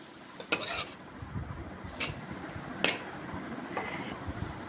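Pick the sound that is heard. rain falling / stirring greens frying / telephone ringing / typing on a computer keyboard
stirring greens frying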